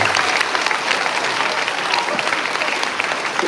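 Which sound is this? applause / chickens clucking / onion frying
applause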